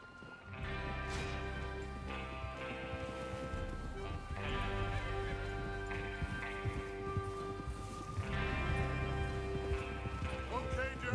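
Horses gallop in Red Dead Redemption 2, riding out to rob a train: a rapid drumming clip-clop of hooves, loud and close, with swelling music and game sound effects layered over it.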